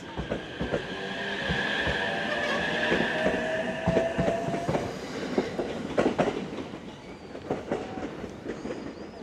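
Panda-themed train at a station in Japan, rumbling and clattering steadily with rhythmic clickety-clack of wheels over rail joints, a faint squeal of metal, and no talking over the sustained noise.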